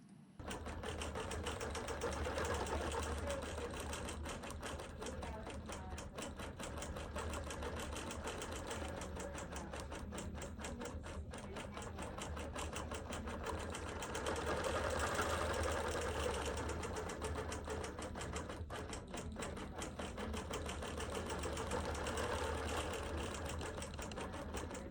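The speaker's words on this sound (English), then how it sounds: "So there is my top piece that I'm going to stitch out." A BERNINA Q24 longarm quilting machine guided by Q-matic stitches with a rapid, even mechanical chatter that runs steadily and moderately loud throughout, with no voices.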